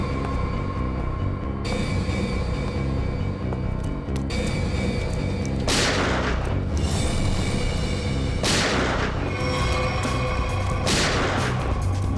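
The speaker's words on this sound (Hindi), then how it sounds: "संजना, सर गोली छूकर निकली।" Gunfire in a CID TV episode comes as three loud, sharp bangs spaced a few seconds apart, standing out over a dense, constant dramatic background score.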